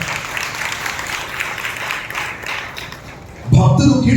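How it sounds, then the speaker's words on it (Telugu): A congregation at a Sunday harvest-festival worship service claps hands loudly in praise, a dense, sustained patter of many hands for about three seconds before a loud voice rises over the clapping near the end. "బిగ్గరగా చప్పట్లు కొట్టి ప్రభువును మహిమపరచండి"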